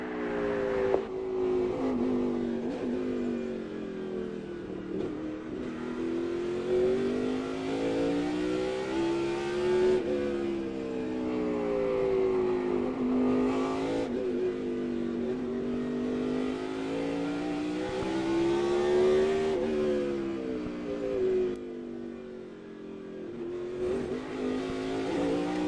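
A NASCAR Cup stock car engine races through the 2006 road course at Infineon Raceway (Sears Point, Sonoma), heard from inside the car as a loud, continuous roar that rises and falls through upshifts and downshifts with no talk.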